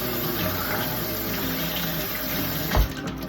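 Bananas being washed under a running kitchen tap, with a steady close rush of water and a brief heavier splash near the end, no talk.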